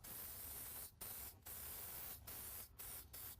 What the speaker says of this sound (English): I'm going to come back with the in and out spray.